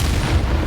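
A short, loud, booming blast from the Bombarda spell in the Hogwarts Legacy video game, deep and rumbling, with no voices over it.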